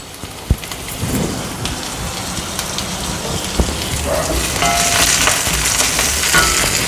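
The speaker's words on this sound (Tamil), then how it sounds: "இப்போ கறிவேப்பிலை சேர்த்துக்கலாம்" Curry leaves crackle and fry in hot oil with sautéed onions for a cluster beans gravy, giving a dense, rain-like sputtering hiss with sharp pops early on and growing louder toward the end.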